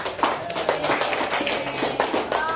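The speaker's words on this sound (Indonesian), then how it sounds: "Boleh tepuk dulu untuk semuanya." Scattered applause from a classroom of students after a group presentation, a few hands tapping and clapping at an irregular pace, with brief voices mixed in.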